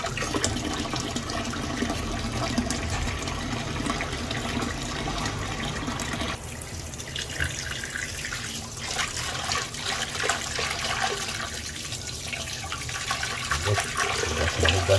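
Tap water runs steadily into a sink while boneless milkfish is rinsed, a continuous splashing gush that shifts in tone partway through as the flow hits the fish and basin, close and fairly loud.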